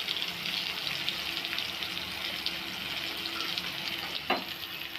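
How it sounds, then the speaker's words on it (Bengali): Chopped onion frying in hot oil with salt for a Bengali chitol fish kalia, a steady dense sizzle that runs the whole time, with one brief clink of a utensil near the end and no speech. "পেঁয়াজ কুচিটা হালকা করে ভেজে দেবো"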